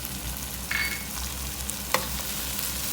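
Tomatoes drop into sizzling masala in a pan, giving a steady close frying hiss with a few brief stirring clatters and scrapes, and no voices.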